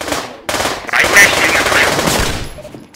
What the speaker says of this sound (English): Why are people shooting at everyone?